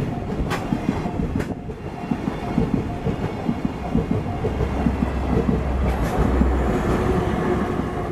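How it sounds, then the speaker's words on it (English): A tourist train in Arashiyama, Kyoto rumbles steadily past at close range, wheels clattering in a dense rhythm over the tracks, loud and continuous throughout with no voices. "There's the tourist train."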